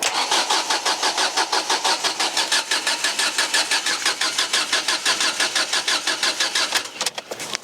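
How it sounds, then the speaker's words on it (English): A car engine cranks repeatedly but fails to start, a fast rhythmic churning of the starter motor lasting several seconds before stopping; the fault is suspected to be the immobiliser, and the sound is close and loud. "the immobiliser light is still flashing and the car isn't starting"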